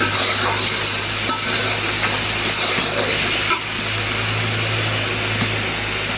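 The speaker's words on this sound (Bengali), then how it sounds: "একটু হালকা ভুনাতে নেই," Buffalo meat with biryani masala being stirred and lightly fried in a pan: a steady broadband sizzle with scraping stir strokes, close and continuous throughout, with no talk.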